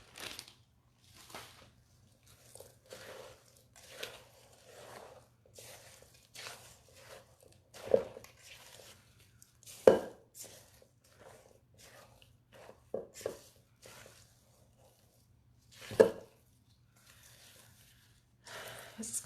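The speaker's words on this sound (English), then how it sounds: "Fold in those cookie pieces." Cookie pieces being folded by hand into a thick rocky road mixture, giving soft, irregular squishy scrapes and thumps in scattered bursts with quiet gaps, close by and fairly faint.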